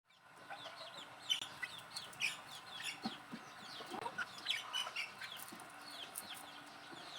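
Broody hen in a fly pen clucking as she pecks at her chicks to drive them away, with soft repeated clucks and high peeping chicks scattered throughout, close and fairly quiet.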